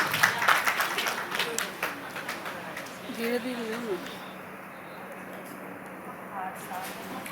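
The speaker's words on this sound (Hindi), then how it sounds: "जोरदार तालियों से स्वागत और अभिनंदन।" A crowd at a Rajasthan award ceremony claps to welcome honored guests, scattered applause heard behind someone speaking through a loudspeaker, which fades to low room noise as the voice continues.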